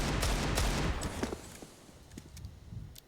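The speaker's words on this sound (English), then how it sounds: "2 wallbang bullets connect." Dense bursts of gunfire from a CS:GO esports match on Vertigo, bullets punched through a wall, with rapid shots packed together early and trailing into scattered, softer pops.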